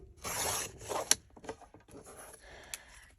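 Scissors cut paper for a junk journal page, making a few soft, close rasping snips and rustles separated by brief quiet gaps.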